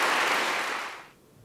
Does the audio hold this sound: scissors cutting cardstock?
no